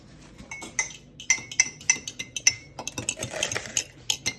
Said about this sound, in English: now I can mix the eggs around with a fork for a bit